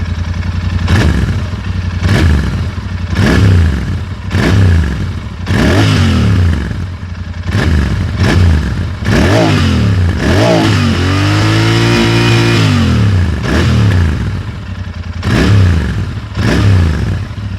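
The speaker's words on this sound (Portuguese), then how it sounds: "E esse ronco mais para o grave associado a um escape duplo" Royal Enfield Interceptor 650 twin with a dual exhaust, one pipe per cylinder, revved repeatedly in loud close bursts that rise and fall, with one longer held rev in the middle.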